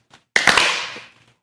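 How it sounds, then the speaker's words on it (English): Champagne party popper fired once, a sharp loud crack followed by a hissing spray that trails off over about a second, alone with no talk. "Oh, more champagne poppers."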